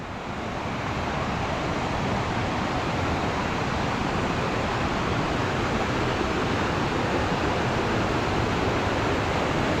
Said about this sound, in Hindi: काफी तेज पानी है।